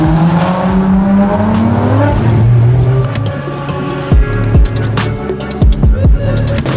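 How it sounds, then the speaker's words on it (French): Drift car competing in a leisure-category final at a Viking Cup drift event, engine revving loudly with sustained tire squeal and sharp bursts of wheelspin, continuous and close throughout. "C'est Lucas Moine qui est sur la piste pour la grande finale de cette catégorie de loisirs."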